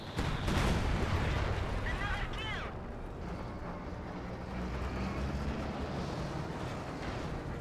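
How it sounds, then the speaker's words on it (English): Bombing run explosions in Company of Heroes 2, heavy booming blasts and rumbling impacts that fill the scene loudly at first, then settle into a sustained battle din. "do have a bombing run here."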